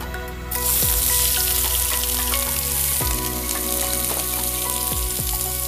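Sliced onions sautéing in hot coconut oil in a Kerala home kitchen, a loud steady sizzle that swells as they go into the pan, with a few scraping stirs along the way.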